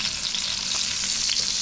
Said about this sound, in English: That's gonna sizzle. So while this is sizzling away